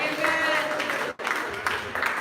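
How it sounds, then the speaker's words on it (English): Seminar audience applauding an evangelist, a steady wash of clapping filling the room with a sudden brief dropout midway before the applause resumes. "Give the evangelist a round of applause now."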